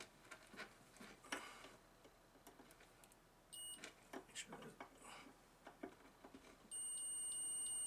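A multimeter gives a continuity test beep while checking a B&H Filmosound 179 speaker: a short electronic tone midway, then a steady beep holding through the final second, with light handling noise in between.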